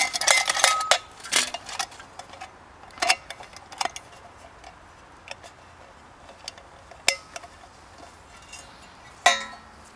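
A canteen cup, its lid and a camp stove being handled during a bushcraft cooking setup, giving sporadic sharp metallic clinks and taps with quiet gaps between them.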